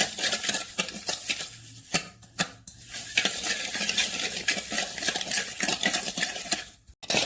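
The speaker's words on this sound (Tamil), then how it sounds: "இது விஸ்க் வச்சு நல்லா பீட் பண்ணிடலாம்." A whisk beats milk and melting butter in a bowl for a berry cake, with rapid uneven scraping and clinking against the bowl, fairly close and loud, broken by short pauses.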